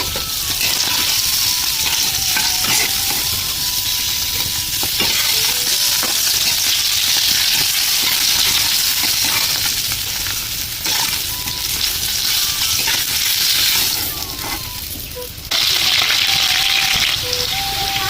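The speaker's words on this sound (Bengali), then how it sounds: "লাল লাল করে ভেজে নিলাম এবার এক এক করে মাছ তুলে দেবো" Fish fries in hot oil in a pan for a fish curry, giving a loud, dense, continuous sizzle that runs the whole time with only a brief dip near the end.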